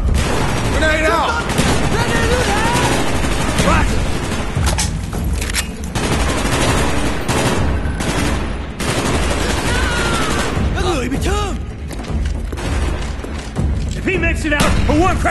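Call of Duty Black Ops campaign combat: dense, continuous gunfire and machine-gun bursts are punctuated by heavy thumping grenade blasts, all loud and close, with in-game soldiers shouting throughout.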